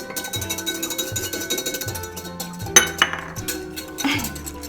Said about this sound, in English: He's getting those egg whites nice and frothy